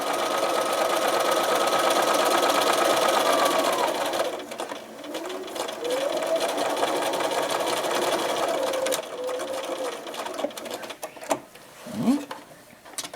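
A sewing machine stitches a straight seam across a fleece scarf, its steady motor whir loud and continuous for about four seconds, then running on and off in shorter bursts, with faint handling noises near the end.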